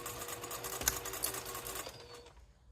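A sewing machine stitches a cork pouch at a short stitch length, a fast even mechanical chatter that runs for about two seconds, with a couple of sharper clicks, then winds down and stops.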